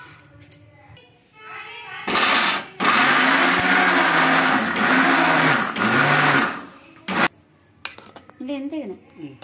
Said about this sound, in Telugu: చూడండి మిక్సీకి అయితే గ్రైండ్ చేసుకున్నాను.